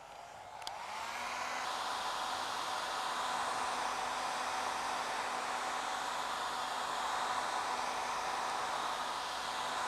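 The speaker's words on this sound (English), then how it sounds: "give this a little quick dry with the old hair dryer again" A hair dryer drying a painting blows steadily at close range, a constant broadband whoosh with a faint hum that holds for the whole stretch.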